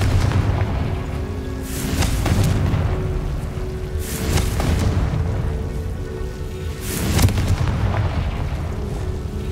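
Confringo blasting spell in the Hogwarts Legacy video game: three heavy, booming explosions about two seconds apart, each a deep rumbling burst over a continuous loud low-frequency game din.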